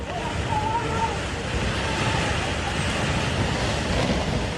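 Water churned by mountain landslide debris plunging into the Chamera reservoir in Chamba roars as a steady, dense rush of waves and wind-like noise, loud and continuous throughout.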